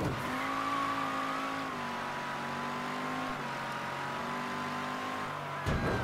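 A car driven in the video game Mafia 3 holds a steady engine drone with shifting pitch throughout, loud and close, with a brief rise in revs near the end and no talk.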